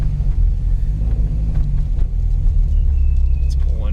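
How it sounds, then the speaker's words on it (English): A 2010 Mini Cooper S R56 idling with an aftermarket Invidia Q300 exhaust in sport mode, a loud, steady low rumble with slight throb close to the tailpipe. "sport mode exhaust sound."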